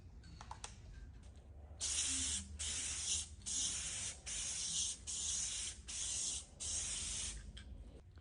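Clear coat sprayed in a light first pass over a car headlight housing, a series of about six loud, hissing aerosol bursts, each lasting roughly half a second to a second, separated by short pauses as the can sweeps side to side.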